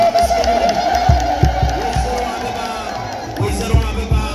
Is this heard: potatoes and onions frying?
no